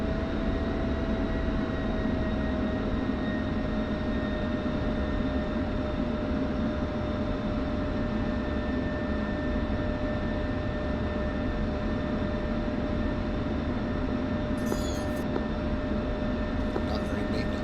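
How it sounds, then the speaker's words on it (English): A steady, loud jet roar from an F-14 in DCS World, sustained and unbroken for the whole stretch with a constant whine over broadband rush. "This is where crazy F-14 comes barreling"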